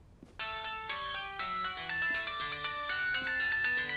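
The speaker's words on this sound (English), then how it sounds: "Is that my phone?" A phone ringtone chimes in the American Arcadia video game, a steady melodic tone pattern repeating loudly and clearly for several seconds with no talking over it.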